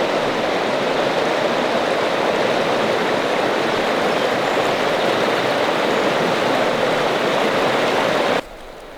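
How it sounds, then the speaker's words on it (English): Sullivan Creek, a year-round wilderness stream, rushes steadily nearby with a loud, continuous broadband wash of flowing water and no talk, cutting off abruptly near the end. "Sullivan Creek is beautiful, and it runs all year long"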